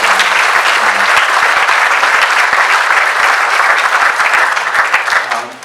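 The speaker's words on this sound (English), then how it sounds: "So let's give them a big round of applause." Loud, sustained applause from the audience at a Porter Ranch Neighborhood Council meeting, dense clapping holding steady for several seconds before tapering off at the end.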